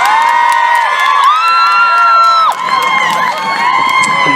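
Crowd at an outdoor beach music festival concert screaming and cheering loudly in a sustained roar, with high shrieks and whoops rising throughout, dense and close.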